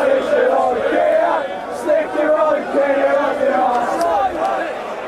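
A crowd of England football fans at a match against Sweden roars and chants in a dense, continuous wall of voices.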